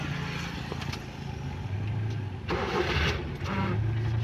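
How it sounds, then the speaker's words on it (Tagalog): A manual-transmission car engine cranks and catches, settling into a low idle, with a short mechanical clatter near the middle; fairly quiet and close. "Tapos start natin yung makina."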